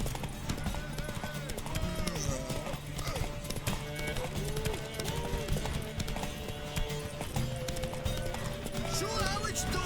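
Horse hooves clip-clop at a gallop in The Witcher 3, a steady rapid rhythm with occasional neighs, running under ongoing character dialogue and background music.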